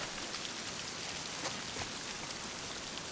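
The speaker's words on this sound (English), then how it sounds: "Commenting on the rain" Steady rain falls in the video game The Last of Us Part II, a soft, constant patter of drops heard quietly and alone, with no voices over it.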